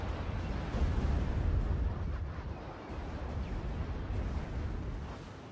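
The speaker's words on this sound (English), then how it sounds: "Another barrage of missiles heading straight into the bank" Missile barrage explosions in the strategy game Art of War, a continuous low rumbling roar of overlapping distant blasts, steady and dense throughout with no talk.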